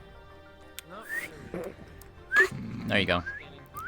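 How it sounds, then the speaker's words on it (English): A person whistles a few short rising and falling notes, close and clear, alternating with bits of speech in between. "Whistle noise, because I can whistle."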